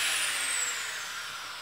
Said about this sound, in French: Là, tu arranges ton alignement de ta plaque et tu commences à visser